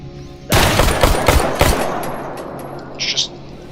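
Rapid burst of automatic gunfire from the S.T.A.L.K.E.R. G.A.M.M.A. video game, loud and close, with several sharp shots clustered in about a second before fading into reverberant tail and faint debris.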